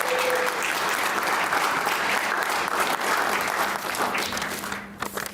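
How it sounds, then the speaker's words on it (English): Sustained, dense applause from an audience at a Children's Health Day press conference, welcoming a state representative to the podium; steady and fairly loud for several seconds, then thinning toward the end. "give him a round of applause"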